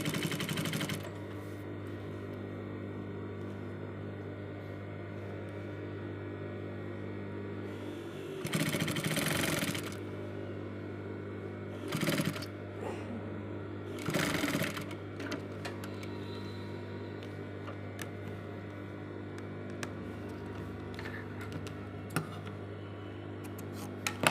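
Sewing machine stitching the front placket of a polo shirt, a steady mechanical whir and rapid needle ticking with a low motor hum, rising in a few louder bursts of faster stitching.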